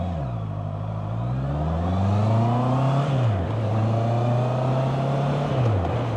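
A motorbike rides through traffic with a steady engine drone that rises and falls with the throttle. It is heard close up from a helmet-mounted microphone and carries a constant wind rush.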